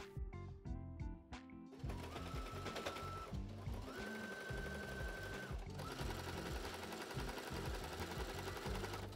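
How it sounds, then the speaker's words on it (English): A sewing machine top stitches binding along a corset-style crop top, a few short bursts of stitching at first, then a long, fast, steady mechanical whir running close and loud to the end. "proceed with folding and pinning the binding over the raw edge and top stitching it down all the way from one end to the other"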